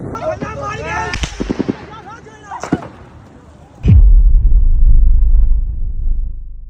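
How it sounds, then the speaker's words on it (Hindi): Police gunfire at a D Chowk protest: sharp separate shots crack out in an irregular string over crowd voices, then a heavy sustained roar of noise rumbles in close and loud. "स्ट्रेट फायरिंग स्टार्ट कर दी गई है पुलिस की तरफ से"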